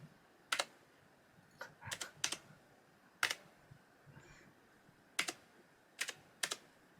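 Sparse, irregular clacks of keys typed on a 2/3-size computer keyboard, each keystroke crisp and close against a faint hiss, with several short bursts and pauses.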